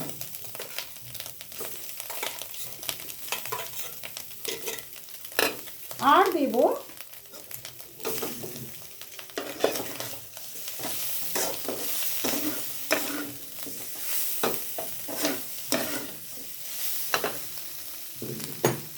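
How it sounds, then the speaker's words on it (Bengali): Taro stolons are stirred in a pan with fried small shrimp, with repeated scraping stir strokes over a crackling sizzle and a brief spoken phrase partway through. "কুচো চিংড়িগুলো ভাজা হয়ে গেছে, আমি এই কচুরলতিগুলো আবার এর ভেতরে দিয়ে দেব।"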